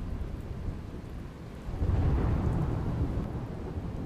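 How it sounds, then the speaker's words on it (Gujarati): Early-morning unseasonal rainstorm with hail in Dholavira, Kutch, Gujarat: a steady roar of falling rain and hail that swells louder midway with a low rumble, no voices. "વરસાદ સાથે પડ્યા કરા।"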